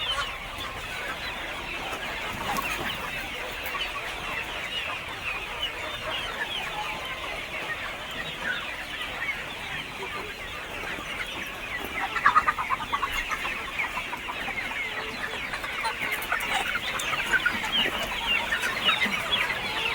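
Free-range village chickens in a poultry shed clucking continuously, many birds overlapping at close to middle distance, a dense steady chatter with no talk.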